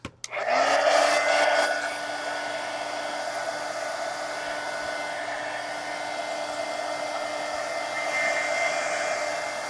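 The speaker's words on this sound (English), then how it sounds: "let me hit this with the heat gun real quick" A heat gun blows hot air over an art journal cover, starting with a sharp click and then holding a steady, close, loud whooshing roar with a constant whine throughout.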